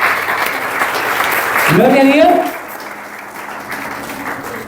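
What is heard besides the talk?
audience applause in church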